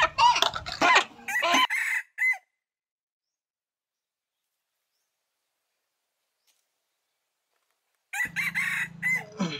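A chicken about to be caponized clucks and crows loudly up close in two bursts, one at the start and one at the end, separated by a long stretch of silence.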